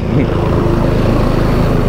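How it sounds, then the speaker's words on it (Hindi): A helicopter near a helipad on the route to Kedarnath makes a loud, constant low rotor and engine drone with a steady throbbing pulse, filling the whole stretch with no break. "तो ये हेलीकॉप्टर आपको सीधा का सीधा केदारनाथ लेके जाएगा।"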